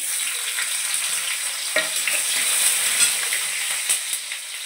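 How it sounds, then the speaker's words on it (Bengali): Garlic dropped into hot oil sizzles steadily in a pan, with a few soft utensil clicks over the constant hiss. "হয়ে গেছে আমার তেলটা। দিলাম রসুনটা"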